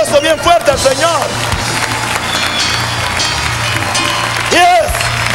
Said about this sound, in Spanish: Dale un aplauso bien fuerte al Señor.